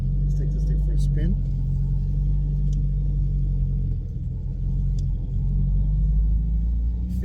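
A Mercedes 190E Cosworth race build drives along with a steady, deep engine rumble and road drone heard from inside the cabin, constant throughout.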